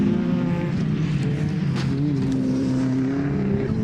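A rallycross car races around the course at a 2017 BTRDA Rallycross Championship event, its engine droning steadily with shifting pitch and carrying loud and continuous throughout.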